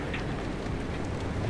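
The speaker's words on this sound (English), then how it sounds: "The rain was like making it kind of hard to see what was going on." Rain falls in the Pacific Drive video game as a dense, steady hiss and patter, loud and continuous throughout the short span.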